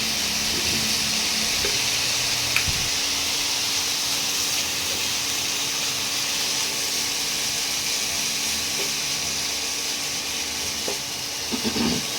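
Spiced chicken mince fries in a pan with a continuous, even sizzle and hiss, heard up close and steady throughout, with faint occasional clicks and no talking.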